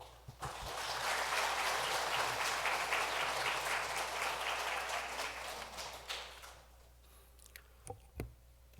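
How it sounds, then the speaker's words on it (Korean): A church congregation at a missionary commissioning service claps together in sustained applause for about six seconds, dense and fairly loud, then the clapping fades into quiet room noise with a few scattered thumps. "우리 나오실 때 큰 박수로."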